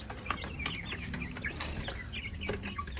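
Chickens cluck and chatter continuously inside a small poultry enclosure on a farm, several birds overlapping at moderate distance with steady background noise and no talking.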